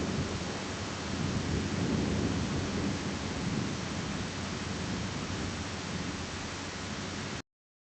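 A thunderstorm breaks over a shore with heavy, continuous rain and deep rumbling, loud and close, with no voices. The sound stops abruptly near the end.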